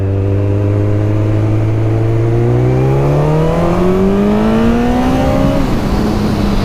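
Motorcycle engine revving hard as it accelerates, a loud, close, rising engine whine climbing steadily in pitch over several seconds with no voices.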